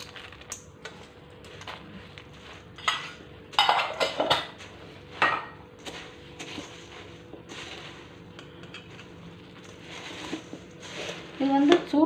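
Karthigai pori, puffed rice with roasted gram, being stirred into hot jaggery syrup in a pan, giving clattering, scraping spoon-on-pan strokes in irregular bursts, loudest in a few clusters, with faint talk in the background.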